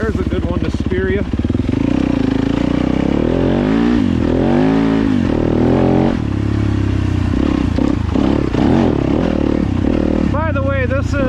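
A Yamaha YZ250FX dirt bike rides a Michigan ORV trail, its engine droning loud and continuous with rising and falling revs as it climbs and slows, a rider's voice talking over it at times.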